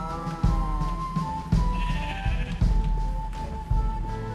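Sheep in the Minecraft video game bleating in a repeated pattern of short calls spaced about a second apart, clear and moderately loud over a faint background.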